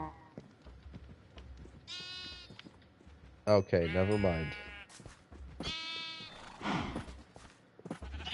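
Minecraft sheep, yellow and blue, bleat three times in clear, nasal calls with pauses between, while someone talks briefly.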